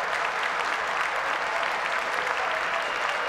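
Sustained applause fills the chamber at the State of the Union, a dense, steady wash of many hands clapping at close range with no break and no voices standing out.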